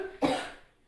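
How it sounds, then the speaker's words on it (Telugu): A single cough sounds at fairly low volume in a home kitchen during cooking, a sharp burst that quickly trails off, with no talking. "దగ్గులమ్మ."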